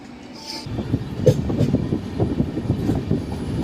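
The Sabarmati Express rolls past on the line, a steady rumble of wheels on track with rhythmic clatter and a brief squeal, loud and close throughout.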